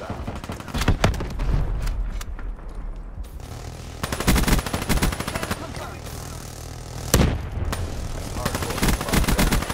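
Rapid automatic fire from the Weevil gun in Black Ops 3 multiplayer, dense crackling bursts with a few heavier booms, loud and continuous across the scene, with a voice talking faintly underneath.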